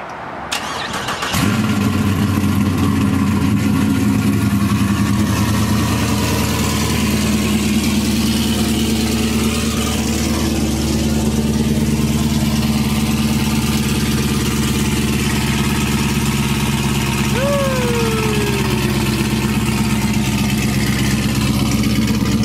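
A Camaro SS engine cold-starts with a brief crank and sharp catch, then settles into a loud, steady, deep idle that rumbles on close by for about twenty seconds.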